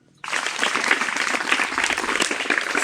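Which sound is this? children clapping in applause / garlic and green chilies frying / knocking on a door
children clapping in applause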